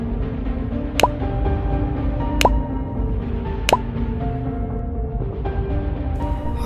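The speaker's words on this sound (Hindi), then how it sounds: "बुल्ली और गार्ड को खून की बूंदें टपकने की आवाज़ आती है।" Blood drops drip in an animated horror story set in a haunted house, three sharp, evenly spaced plinks over a low background hum, then fainter drips toward the end.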